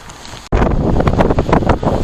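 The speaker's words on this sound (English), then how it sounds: "it's now gusting about 20 miles an hour out here now" Strong wind gusts batter a cheap two-person budget tent outdoors, with a sudden loud blast of flapping fabric and buffeting microphone roar arriving after a brief quieter moment.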